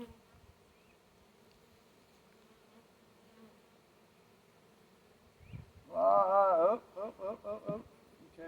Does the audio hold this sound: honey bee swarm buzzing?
yes